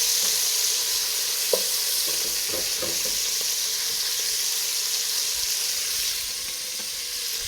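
Beef chunks for beef bourguignon sizzle steadily in a hot pan, a constant close frying hiss with a few soft clinks and stirring sounds early on.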